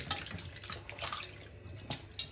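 Water splashes and trickles while raw chicken is washed by hand, an uneven stream of small splashes and drips, close and moderately quiet, with no talking.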